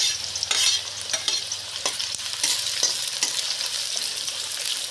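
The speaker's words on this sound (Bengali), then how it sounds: "পেঁয়াজ ভাজতেছে, দেখেন।" Sliced onions frying in hot oil in a large pot for chicken biryani, a continuous bright sizzle broken by scraping stirs of a utensil, close and loud with no talking.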